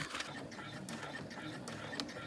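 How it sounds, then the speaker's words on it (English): Sewing machine top-stitching a curved seam at a steady pace, a continuous close mechanical whir with light periodic ticks and no talk. "This time I'm going to sew almost all the way to the end."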